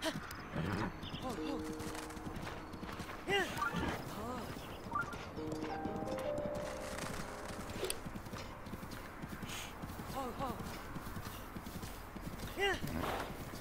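Horse hooves clip-clopping steadily in Breath of the Wild, with a few whinnies, game music tones and someone talking over much of it.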